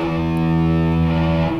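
An electric guitar played through a distortion effect rings out in one loud, thick sustained chord that holds steady and starts to fade at the end, with no talking.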